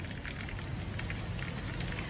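Chicken leg pieces sizzle in hot mustard oil for village-style tandoori, giving a short, quiet, even crackle of frying.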